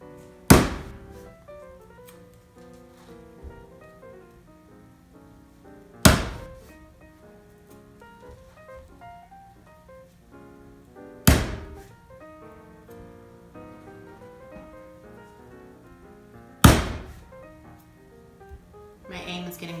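A blade hacks into the shell of a young coconut to open a circle, four sharp, heavy thunks spaced several seconds apart, close and loud over quiet background.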